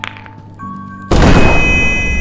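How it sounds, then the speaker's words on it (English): A flashbang grenade goes off in the Kill It With Fire video game. A few quiet tones come first, then a sudden loud, close blast that becomes a sustained harsh roar to the end. "Flashbang!"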